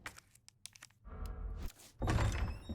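A door opens in the Resident Evil 2 remake: light clicks and a latch, then a heavy scraping swing and a louder thudding, rumbling finish, close and with no voices.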